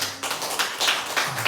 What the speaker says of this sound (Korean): 서로 감사의 박수를 올려드리시겠습니다